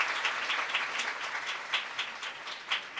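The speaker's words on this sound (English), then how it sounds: "Please give them a great round of applause." Audience applause at a lecture hall event, a moderately loud ongoing patter of clapping hands with slightly uneven, pulsing intensity and no voices over it.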